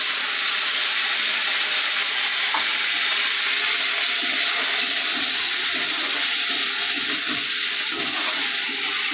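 Bitter gourd slices and potato fry in a hot pan, giving a loud, steady sizzle and hiss that runs unbroken throughout.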